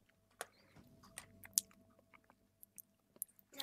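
A Minecraft character eating, with soft, irregular smacking and chewing clicks scattered over a few seconds, faint and close, with no talk.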